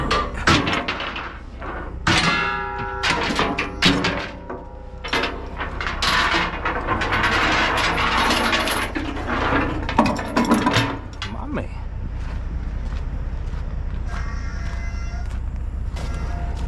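Ratchet chain binders being cranked tight on the tracks of heavy equipment loaded for hauling, with repeated metallic clanks and ratcheting clicks, chain rattles and loud bangs over a steady engine rumble.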